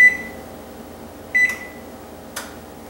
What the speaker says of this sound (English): I'm also going to preheat my oven now to 350 degrees